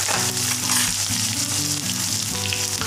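Chopped onions dropped into hot oil with cumin and mustard seeds, crackling and sizzling loudly and continuously at close range with a few stirring scrapes and no voices.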